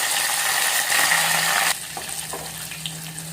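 Tempering of dried chillies, garlic, curry leaves, chana dal, mustard and cumin seeds crackling in hot oil for a green chilli dal, a loud steady sizzle that drops to a quieter hiss midway.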